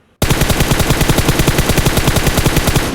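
Sustained automatic gunfire from a shooter video game, laying down covering fire, a loud rapid-fire burst of evenly spaced shots that starts abruptly and runs continuously without talk.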